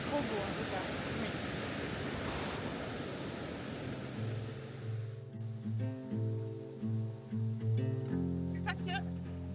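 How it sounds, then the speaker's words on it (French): Rushing water from a small waterfall in the Cantal, France, hisses steadily, later joined by a sustained melodic tone layered over the flowing noise. "Petite cascade. En cascade."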